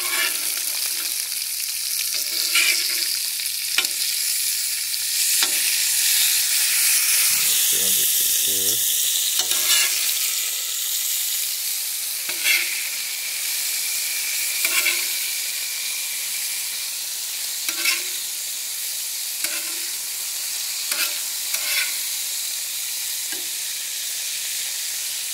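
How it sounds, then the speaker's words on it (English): Food sizzling on a flat-top griddle outdoors, a continuous loud hiss with steamy spurts and periodic metallic spatula scrapes and taps, no talking. "Anything else you cook on this flat top's gonna taste really good today."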